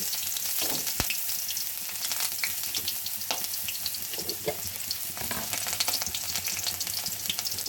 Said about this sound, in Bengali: লাউ রান্নার জন্য তেল দিয়ে দিয়েছিলাম এখন পেঁয়াজ দিয়ে দিচ্ছি